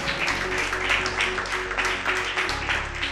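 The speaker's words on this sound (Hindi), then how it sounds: "जोर से ताली बजा प्रभु की महिमा करें" A church congregation claps together in praise of the Lord during testimony time, a dense, sustained round of applause with some voices mixed in over a low steady hum.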